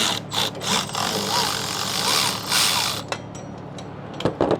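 Ratchet wrench working on a stuck bolt during a 2016 Silverado hydroboost replacement, with rapid clicking ratchet strokes and metallic creaks, close by, pausing briefly before a few final clicks.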